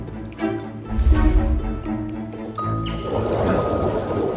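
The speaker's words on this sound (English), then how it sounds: "There it is, flowing water under the roads." Water flows under city roads in SimCity, a steady trickling pour that is joined by a sustained tone partway through, over faint ticking game sounds.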